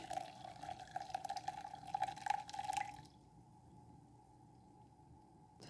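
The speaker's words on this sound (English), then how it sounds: "And then just pour the lemon water over it." Lemon water poured over blended cucumber, a steady trickling splash for about three seconds before it stops, leaving a quiet room tone.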